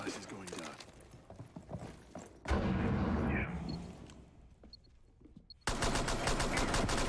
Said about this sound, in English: And we do see some shots fired